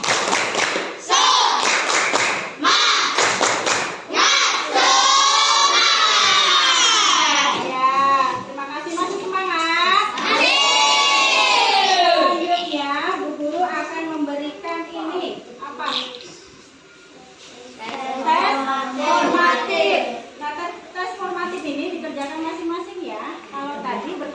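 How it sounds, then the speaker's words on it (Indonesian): Fifth-grade pupils in an Indonesian primary school classroom doing a spirit clap chant, rhythmic bursts of group clapping mixed with loud children's chanting voices, pausing briefly before resuming. "Yuk kita tepuk semangat dulu."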